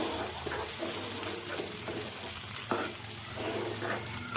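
Ground masala paste sizzles and fries steadily in hot oil alongside fried bombil fish, with a spoon stirring and scraping the pan now and then, loud and close, no talking.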